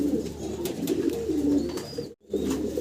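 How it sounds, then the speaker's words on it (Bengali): Pet pigeon, a polished yellow-colored bird, cooing in soft low repeated throaty calls, close and clear, with a short silent gap near the end. "ইয়েলো কালারের, খুব সুন্দর একটা কবুতর"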